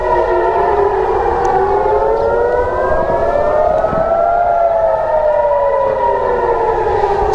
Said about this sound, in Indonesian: Sirine meraung saat Israel dan Iran saling serang untuk pertama kalinya sejak gencatan senjata.